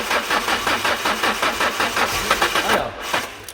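A car's starter cranks the engine in a steady rapid rhythmic churn, close and loud, without the engine catching, and the cranking eases off near the end.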